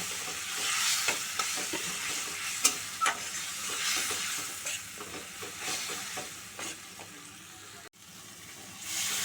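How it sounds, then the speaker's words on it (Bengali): Spice paste for a pointed gourd vegetarian dish sautés in a pan on low flame, giving a quiet, continuous sizzle with repeated soft scraping and tapping from stirring. "এবার মশলাটা কষাবো সিম করে কষাচ্ছি"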